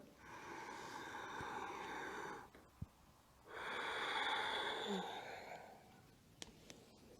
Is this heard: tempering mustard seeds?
no